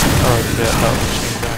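Sustained machine gun fire in Half-Life 2 Episode Two, a loud continuous rattle of rapid shots filling the whole moment without a break.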